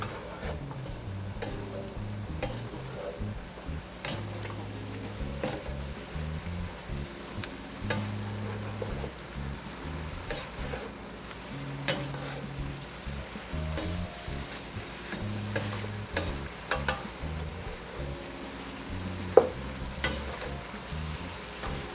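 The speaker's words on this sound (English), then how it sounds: "I'm going to give this a stir." Beef and broccoli stir fry sizzling in a single pan, with a soft continuous fry and repeated scraping, clattering stirs at a moderate distance and no voices.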